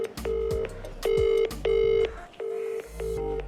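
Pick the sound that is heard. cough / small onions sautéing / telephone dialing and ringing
telephone dialing and ringing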